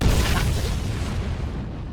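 Explosion sound effect from the Black Lagoon anime, a heavy low-frequency boom with a rumbling tail that fades gradually over about two seconds, loud and without speech.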